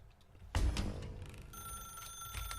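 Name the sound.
telephone ringing in the video game The Stanley Parable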